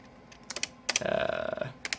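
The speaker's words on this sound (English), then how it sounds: "Keyboard's actually working fairly well today." Fingers typing on the keyboard of a Compaq Portable computer, heard as a few scattered keystrokes followed by a fast, firm burst of clacking keys at close range.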